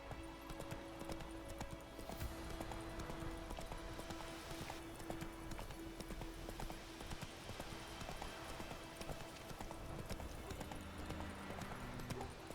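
Horse hooves clip-clop steadily and continuously in The Witcher 3, a close, even rhythm of a galloping or trotting mount over a constant bed of in-game ambience.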